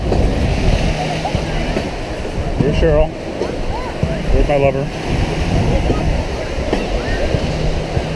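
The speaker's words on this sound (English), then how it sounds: "Pacific Ocean, salt water. I got my feet wet." Ocean waves wash onto a Pacific beach with a continuous broad surf roar. People talk and call out close by over the water.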